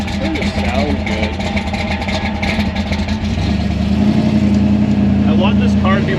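A nose-high 1964 Chevy II gasser idles and revs loudly up close, its deep engine rumble rising in pitch partway through and holding steady at a higher drone.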